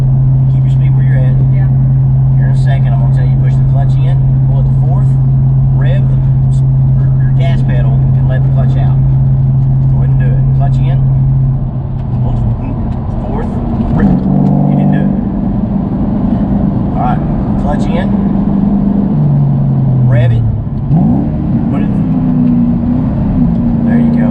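A manual transmission car's engine holds a steady hum, then dips and climbs as it revs during a rev-match downshift, loud and close inside the cabin, with people talking over it.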